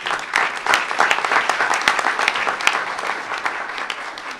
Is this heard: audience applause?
yes